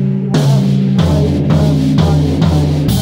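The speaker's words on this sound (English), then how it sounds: "This is a 16th note fill." A 16th note drum fill on a kit with the snare featured, played as loud, rapid repeated hits in even groups with booming low resonance, no speech over it.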